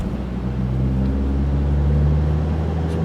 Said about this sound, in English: There's a Chevy coming up with a snowplow attached.